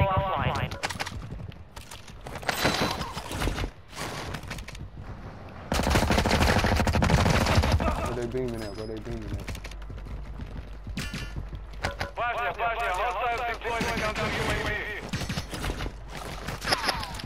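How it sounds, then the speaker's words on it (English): Gunfire from a team-based online shooter video game, with bursts of rapid shots and scattered single reports at mid distance, mixed with game music and effects while players talk over it. "Where them shots coming from?"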